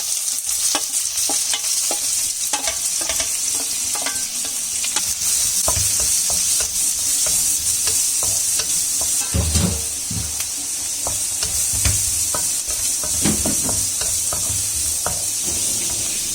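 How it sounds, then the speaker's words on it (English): Onions sizzle loudly in hot oil with mustard seeds and cumin, a dense continuous crackle broken by repeated scraping and clinks of a spoon stirring the pan, close up and with no one talking. "Now I'm adding the onions as well."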